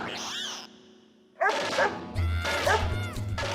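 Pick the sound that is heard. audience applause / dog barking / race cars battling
dog barking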